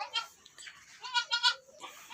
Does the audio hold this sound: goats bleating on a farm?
yes